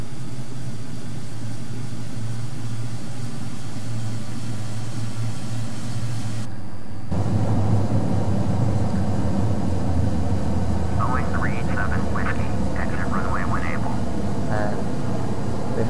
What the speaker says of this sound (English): now apply reverse thrust by pressing and holding F2. Now the reverse thrust is on.